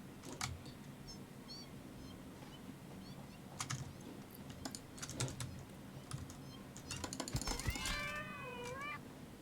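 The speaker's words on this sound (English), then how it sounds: "They've put in cat sounds." Cat meows from the Satisfactory video game, where arachnophobia mode swaps a large spider's sounds for a cat's, with a drawn-out wavering meow near the end over soft keyboard tapping and game ambience.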